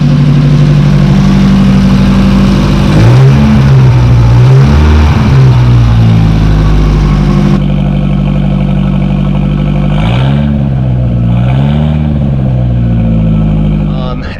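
A Porsche 924 turbo engine with a hacked-up modified exhaust idles loudly nearby, a rough steady drone broken by a couple of wavering revs, with someone talking over it.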